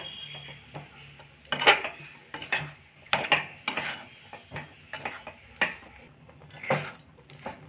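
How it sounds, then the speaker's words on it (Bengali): A spatula scrapes and knocks around a kadai while green pea filling for kochuri is stirred, giving repeated close metallic clatters and scrapes in an irregular rhythm with no talk. "এইভাবে নাড়তে থাকবো কড়াইয়ের চারপাশে"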